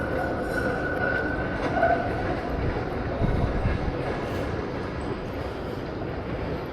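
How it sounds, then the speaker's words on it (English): Melbourne trams pass along a city street, a continuous rolling rumble of wheels on rails with a faint high squeal early on, steady and moderately loud throughout. "And we've got Melbourne trams."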